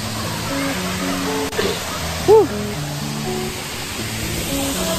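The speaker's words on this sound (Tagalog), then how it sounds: "ito ang Darana Falls" Daranak Falls in Tanay, Rizal makes a steady, broad rush of falling water throughout. Voices and other faint tones sound over it.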